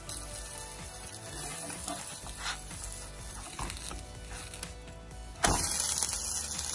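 A flour wrap cooks in an already hot pan, giving a steady soft sizzle and frying crackle that runs throughout, growing a little louder near the end.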